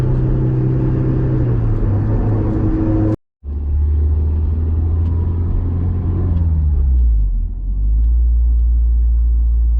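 A Nissan Almera GTI's engine rumbles steadily up close, cuts out abruptly for a moment, then returns and dips lower before settling into a low idle drone.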